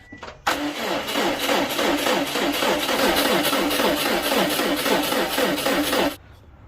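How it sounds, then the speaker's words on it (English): A Subaru car engine cranks over with a steady, rhythmic chugging for several seconds, loud and close, then stops abruptly. "let's go crank the engine again"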